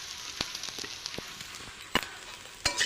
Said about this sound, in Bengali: একটু করতেছি আলু ভাজা